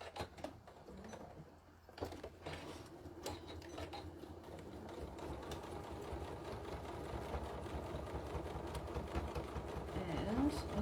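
A sewing machine stitches over the zipper of a decorated Yazzii bag, a steady close mechanical whir and needle patter that builds gradually louder and runs continuously throughout.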